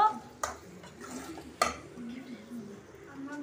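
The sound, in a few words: mixing bread halwa in a pan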